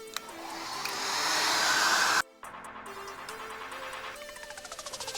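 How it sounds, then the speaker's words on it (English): Hot air blown steadily across a degreased leather seat surface: a loud, continuous hair-dryer-like whoosh that cuts off abruptly partway, then resumes with a rougher, pulsing airflow tone. "Then we can dry the surface well."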